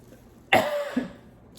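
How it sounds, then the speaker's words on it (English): A single sharp cough bursts out, followed by a brief rasping tail and a smaller second catch, close by with no talking. "I got a cough."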